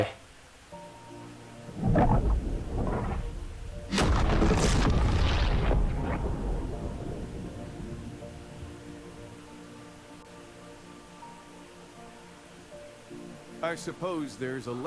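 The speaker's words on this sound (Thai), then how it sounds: "ไอ้บอลนั่นระเบิด" A loud booming explosion in the shark video game Maneater, erupting suddenly and rumbling off over several seconds, with game sounds and someone speaking in Thai around it.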